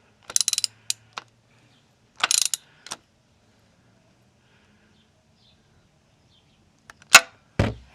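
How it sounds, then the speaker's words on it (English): Ratchet wrench with a 1-inch socket giving a Toyota Camry Hybrid oil filter another half turn: a few short bursts of ratcheting clicks, then a pause, another brief run, and a final louder click burst near the end. "we'll tighten it with our ratchet, maybe another half turn"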